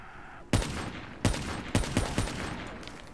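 The Drakon sniper rifle fires in Call of Duty Black Ops III zombies mode: five sharp, loud gunshots in irregular succession, each with a short echoing tail.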